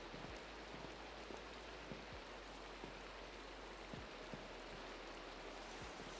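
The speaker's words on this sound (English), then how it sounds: "It just does not want to stop raining." Steady Minecraft rain hisses evenly throughout, with occasional soft drop taps scattered across the wash of noise.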